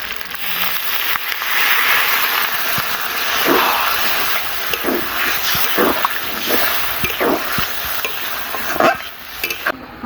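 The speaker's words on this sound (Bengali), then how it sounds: "এইবারে দিয়ে দেবো জল।" Water hits a hot pan of murrel fish jhal curry and sizzles loudly, a broad hissing fry with scattered stirring clinks and bubbling pops as the sizzle gradually settles.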